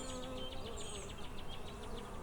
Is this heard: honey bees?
yes